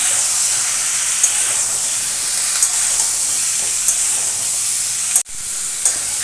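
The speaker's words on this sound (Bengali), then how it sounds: "একটু নাড়াচাড়া করে নেব" Vegetables seasoned with salt and turmeric fry in a pan with a loud, steady hiss and sizzle. A few soft knocks from stirring punctuate it, and the sound cuts out abruptly for a moment before resuming.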